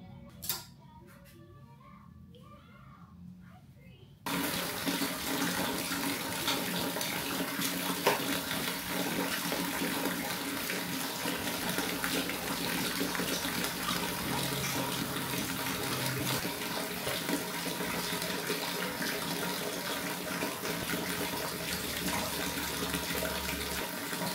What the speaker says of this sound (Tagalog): Sa shower lang sa mami.